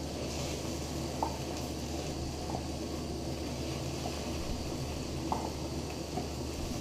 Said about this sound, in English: you can do a higher heat to fry up the eggs